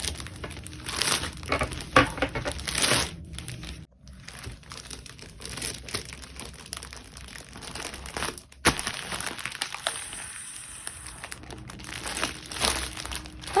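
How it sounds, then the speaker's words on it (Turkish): Steady crinkling and rustling of a clear plastic bag being handled up close while packing orders, with continuous crackles and a couple of brief pauses, no talking. "Sonrasında şeffaf poşete koyuyorum ki temiz halde size ulaşsınlar. Buradaki haşır huşur sesi duyun istiyorum."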